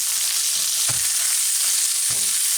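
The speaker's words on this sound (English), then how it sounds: "these have been sauteing here for" Sous vide pork tenderloin sauteing in a hot pan, giving a loud, continuous sizzle and crackle. Two brief thumps of the pan or utensil cut through it, and nobody speaks.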